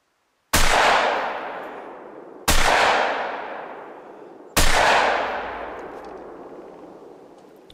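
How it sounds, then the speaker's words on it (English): Three loud shotgun slug shots boom across open terrain while hunting an animal in theHunter: Call of the Wild, each sharp blast spaced about two seconds apart and trailing off in a long, rolling echo. "I'm going to use the shotgun on him with the slugs"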